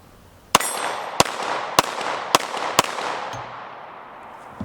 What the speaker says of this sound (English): So I'm gonna see if I can fire it.